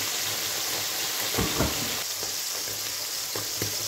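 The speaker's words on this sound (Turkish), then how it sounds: "Peynirlerim yavaş yavaş kızarmaya başladı." Homemade village cheese fries in a pan with a steady, close sizzle, broken by a few soft clicks and scrapes as the pieces are stirred and turned.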